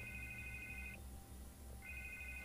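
A telephone rings in Batman The Telltale Series, giving two bursts of electronic trilling separated by a short pause, heard over a low background hum with no talking.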